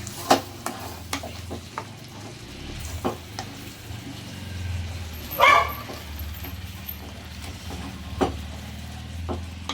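Chicken handi being stirred in a pan after a couple of spoons of cream are added, with soft scraping strokes and light sizzling over low background noise, plus one brief louder clatter midway.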